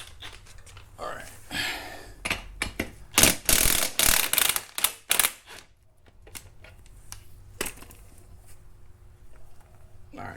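Ratchet with a 15/16 socket and 1/2 inch drive cranks a bolt loose on a Ninja 500 motorcycle during an oil change: bursts of clicking and scraping, loudest in a busy middle stretch, then sparse faint clicks over low background hum.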